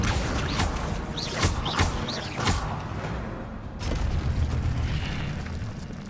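In the video game Hogwarts Legacy, an Incendio fire spell is cast: a loud burst and rumbling whoosh with crackling and mechanical creaks, then a fresh surge of roaring noise midway, continuous and close.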